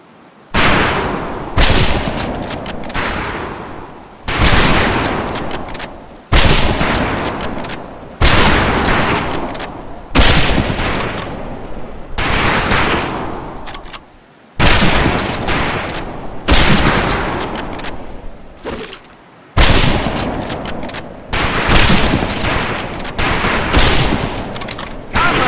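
Rifle gunfire on a shooting range in the Medal of Honor video game: a steady series of loud, sharp shots, roughly one every two seconds, each ringing out with a long echoing tail.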